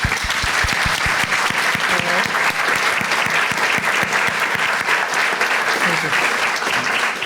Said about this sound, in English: The applause that came show clearly the appreciation that all we have for you being here, for the conversation.